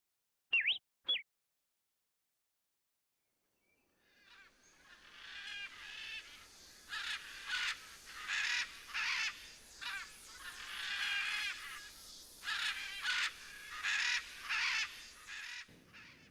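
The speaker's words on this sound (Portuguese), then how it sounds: "O início do curta tem uma sonora de araras gravadas lá na aldeia mesmo." Macaws recorded in an indigenous village give a pair of sharp calls, then after a pause a run of harsh, raucous squawks rises in repeated bursts, fairly loud and close.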